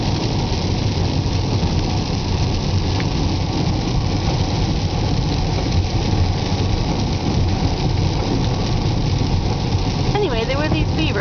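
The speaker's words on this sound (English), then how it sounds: "driving along, enjoying the view" A car driving along a road through scenery of hills, rock faces and trees, with a steady, loud engine and road drone that holds constant throughout.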